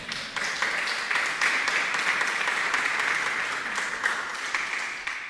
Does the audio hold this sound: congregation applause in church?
yes